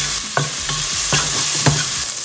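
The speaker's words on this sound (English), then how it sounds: "To this I'm going to add 8 pearl onions or small onions chopped." Chopped pearl onions sizzle and fry in a Kerala claypot, a steady loud crackle with a few stirring scrapes at irregular intervals and no talk.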